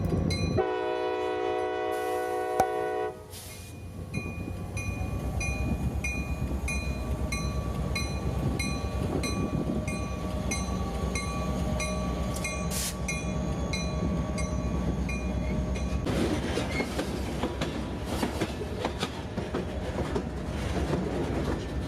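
A diesel freight train hauled by a former Baltimore and Ohio GP40-2 locomotive sounds its horn in long blasts, then rumbles steadily past with clattering wheels and cars rolling by.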